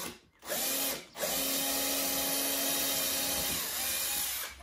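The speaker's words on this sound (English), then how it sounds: "drill a hole." A power drill boring a hole into a workbench while a hanging clip is being made, a steady loud whine running for several seconds after two brief starts, with no talking.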